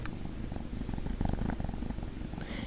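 A cat purrs steadily and close up, a continuous low rumbling vibration with no other sounds over it.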